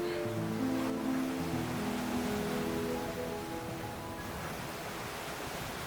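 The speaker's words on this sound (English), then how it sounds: "This is the Qiantang River in Zhejiang Province, home to the world's largest tidal bore, which locals call the Silver Dragon." The Qiantang River tidal bore in Zhejiang Province, the world's largest, rushes in as a broad, continuous roar of surging water, loud and steady throughout with faint tonal hum underneath and no talk.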